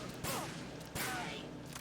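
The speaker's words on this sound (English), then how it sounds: "Luckily, no one else heard those gunshots." Two sharp gunshots from the Metal Gear Solid VR Missions video game, the first at about a quarter second and the second just before one second, each a loud broadband burst over a steady game background.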